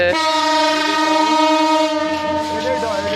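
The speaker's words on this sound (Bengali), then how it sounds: "তো ট্রেন সিগন্যাল দিয়েছে এখন আমরা উঠে যাচ্ছি ট্রেনে" A passenger train at a station on the Khulna to Dhaka route sounds its horn in one long, loud, sustained blast that fills the whole moment, with faint rumbling beneath.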